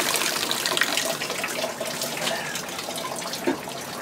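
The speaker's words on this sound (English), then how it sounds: "It's got a geyser." Water spraying hard from a broken pipe in a yard, gushing like a geyser in a loud, continuous hiss with little variation, close by.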